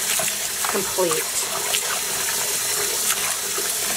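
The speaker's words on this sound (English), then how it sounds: "I'm expecting that as I rinse this soap out, I'm not going to see any more bleeding" Tap water runs loudly and steadily while a kettle-dyed purple yarn skein is rinsed of soap. The gushing flow is close and continuous, with a voice talking over it.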